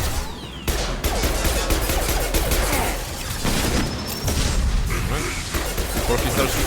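Enemy gunfire in the sci-fi shooter Mass Effect 2, a dense, continuous clatter of shots and impacts layered with game combat noise throughout, with a voice talking over it.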